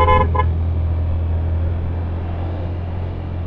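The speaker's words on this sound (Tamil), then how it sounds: "இது மஞ்ச கோழி இல்லையா, மஞ்ச லாரி." A yellow lorry on the hill road from Mettupalayam to Ooty gives a short double honk of its horn at the start, followed by a steady, loud engine rumble as it passes close by.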